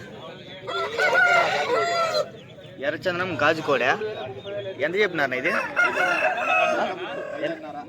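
Punganur roosters crow and hens cluck at a busy hen market, the calls close and repeated under near-continuous talk from people bargaining nearby.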